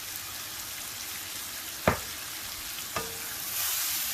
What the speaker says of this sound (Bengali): এগুলোকে খুব ভালো করে নেড়েচেড়ে মিশিয়ে চুলার আঁচটিকে একদম কমে রেখে